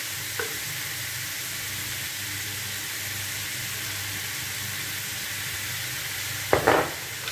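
Minced meat frying in a pan sizzles in a loud, steady hiss that holds for the whole stretch, close up, with a brief clatter of stirring near the start and another near the end.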